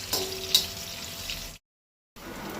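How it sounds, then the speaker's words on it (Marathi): Chopped onions, two of them, hit hot oil in a pan and sizzle steadily for about a second and a half, then a short silent gap before the frying resumes, close and moderately loud with no talk. "तेल तापलें काय ना 2 कांदे घेतल्या ते चिरून घालपाक जाय"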